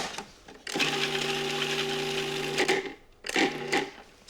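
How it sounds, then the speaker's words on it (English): A food processor whirs steadily as it minces garlic and parsley, a loud motor drone lasting about two seconds, then a short pause and a second brief pulse. "Just process that until the garlic and the parsley are minced."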